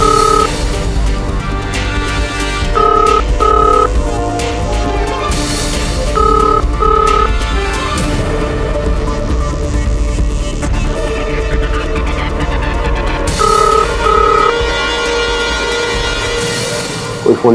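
A telephone rings repeatedly and goes unanswered in a tense courtroom drama scene, the steady tones pulsing over loud dramatic background music.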